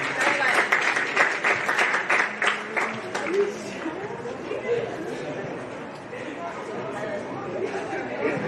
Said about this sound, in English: if you please have a round of applause for them